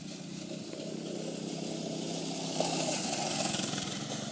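A rebuilt go-kart engine runs steadily during a test drive, a faint buzzing drone that swells slightly partway through, with no voices.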